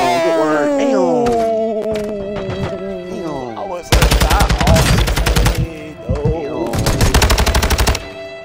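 Semi-automatic gunfire in Warzone 2.0 rings out in two loud, rapid bursts of sharp shots, the second one broken into clusters. Before them come swooping, tonal game sounds.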